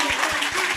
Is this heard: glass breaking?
no